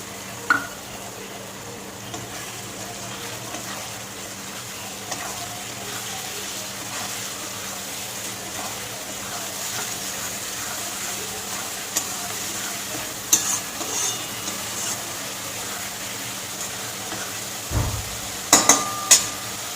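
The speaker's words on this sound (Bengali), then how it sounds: "এবার দিয়ে দেবো মিডিয়াম সাইজের 2টো পেঁয়াজ আমি পেস্ট করে নিয়েছি" Onion paste frying with tomato in a pan, a steady close sizzle carrying soft stirring scrapes throughout, with a few louder clinks and knocks near the end.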